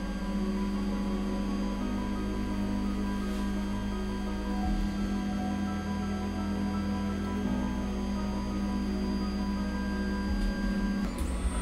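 A Steadytech Mini 3D printer prints a coin, giving a steady close mechanical whir with tonal stepper-motor hums that shift pitch every few seconds as the moves change. The sound runs alone without a break.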